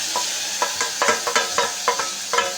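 Onion and tomatoes fry in a pan with a constant bright sizzle, broken by a regular run of scraping stir strokes, about two per second, close and clear.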